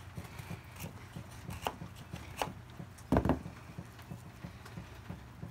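A Spartan Blades knife carves shavings off damp wood, making a steady series of soft, close scraping and tapping strokes with one sharper cut partway through, with no talk.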